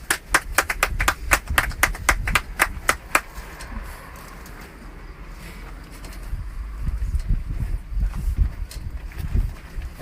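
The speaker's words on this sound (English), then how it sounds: "How about a big round of applause for Roxanne Ryan?" Sharp, separate claps ring out in a quick run for about three seconds, then give way to low rumbling room noise and scattered thumps as the audience settles.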